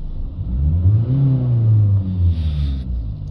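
Diesel engine of a Ford Transit Courier with a diesel particulate filter fault revs steadily close by, a loud continuous rumble that rises and holds through the whole stretch, with a faint high whine near the end.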